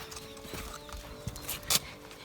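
A horse scratching itself makes a series of soft, irregular rubbing and thumping sounds, with hoof shuffles and one sharper scrape, heard fairly close in a quiet stable-like space.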